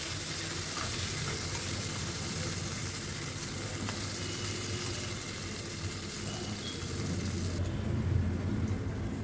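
Potatoes frying in oil in an open wok, a steady close broadband sizzle running throughout with no speech over it.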